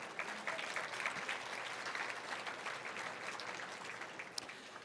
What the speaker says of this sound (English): So that certainly deserves a round of applause.